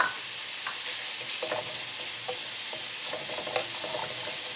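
Carrots, celery and green onions stir-frying in a big pan, a steady close sizzle with scattered light scrapes and clicks of stirring throughout, no talk.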